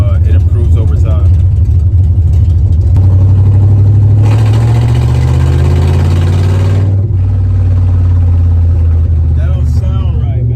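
A car engine with a fuel pressure problem runs at a steady, uneven idle, close and loud, with a rougher, brighter surge in the middle. Someone talks over it.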